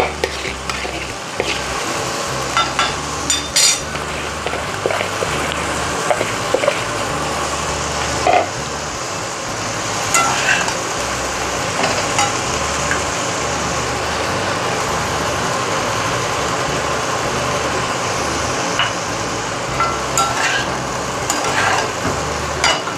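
White rice is stir-fried with green vegetables for tricolor fried rice, giving a steady sizzling hiss broken by repeated scraping and clattering of the utensil against the pan; no voices.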